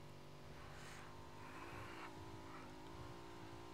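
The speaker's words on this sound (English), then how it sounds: "Sounds like you got a vehicle to your right" A vehicle engine runs nearby in PUBG, a steady revving drone with a rising pitch partway through, heard alone without talk.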